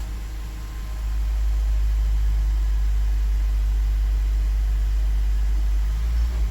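A Toyota Prius with an overheating fault (P261B and P0A0F codes) starts its engine, which settles into a steady, low, droning run after about a second, alone and fairly loud.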